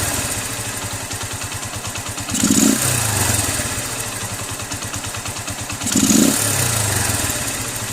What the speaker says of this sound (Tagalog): Papakinggan mo yung pagbalik niya sa minor.